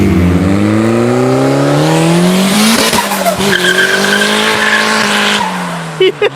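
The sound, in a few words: turbo Honda Civic skidding, tires squealing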